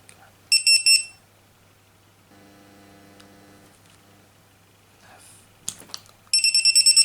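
A Fullspeed Lucky Box standalone buzzer sounding loud, shrill beeps, a short burst of rapid pulses at the start, then quieter tones and a low hum, ending in a fast series of sharp beeps.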